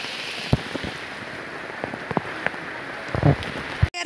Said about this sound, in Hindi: अभी आपको बारिश का सीन दिखाता हूँ।